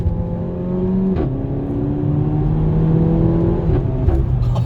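A 2018 Renault Mégane 4 RS with a 1.8-litre turbo, 280 hp, accelerates hard on the road, the engine note climbing through gears with two quick shift dips, loud and close.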